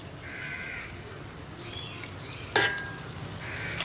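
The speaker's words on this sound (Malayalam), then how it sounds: "ഡീപ്പ് ഫ്രൈ അല്ല ചെയ്യുന്നത്, ഷാലോ ഫ്രൈ ആണ്. അപ്പോൾ ഇതിലേക്ക് നമുക്ക് കരിമീൻ ഇട്ട് കൊടുക്കാം." Karimeen (pearl spot fish) shallow frying in a pan, a soft steady sizzle with a sharp clatter midway, while a crow caws faintly in the background.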